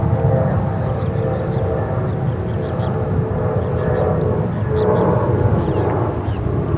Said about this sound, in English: We have another 767-300 coming in from Delta